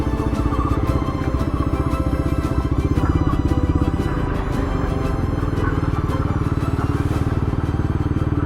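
A motorcycle riding along a mountain road in Negros Occidental, its engine droning steadily and close with a low rumble and some rattling, wind noise over it and no talking.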